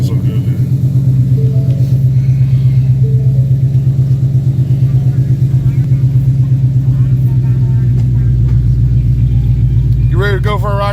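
A 2015 Ford Mustang GT Premium with a track pack and an SVE stage 2 exhaust idles close by with a loud, steady, deep rumble that holds throughout.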